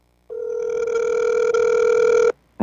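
A phone ringback tone plays while calling someone, one steady electronic buzz lasting about two seconds, loud and close over a quiet line, with the start of a second ring at the end.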